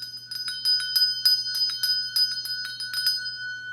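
A hand bell rings repeatedly at a memorial celebration of life, a steady run of bright, clear strikes sounding close and alone with no talk over it.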